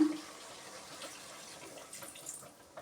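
Water trickles into gourd curry in a pot, giving a soft, brief pouring sound, quiet and near.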